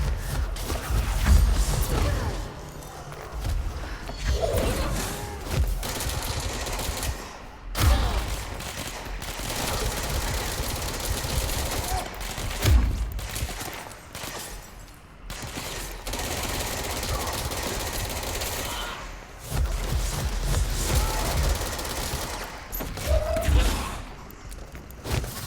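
Rocket launcher fire in the video game Control, rapid bursts of booming blasts and explosions repeating in clusters over a dense, loud background of game noise.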